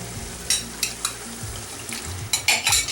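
Marinated shrimp, about a pound of 31-40 size, hit a hot pan with a burst of sizzling and frying, broken by several sharp clatters of a utensil stirring against the metal, close and clear with no talk.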